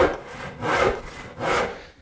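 Hand saw cutting through wood on a workbench, three long rasping strokes in a steady back-and-forth rhythm, close and fairly loud with no talking.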